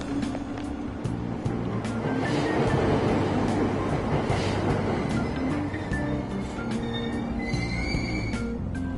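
Train ambience at a Tokyo subway platform in Persona 5 Royal, with Aoyama Ichome station: a steady rumbling carriage with wheel squeal and faint high chimes, loud and continuous throughout.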